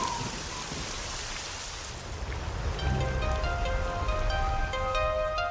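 Steady rainfall in a dry landscape, falling as a dense, even hiss of drops on the ground. Partway through it swells slightly, with scattered brighter drips ringing out above the wash.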